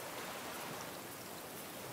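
Rain and wind pick up in the survival game Raft, a steady hiss of rainfall with a broad rushing wash, even and unbroken throughout.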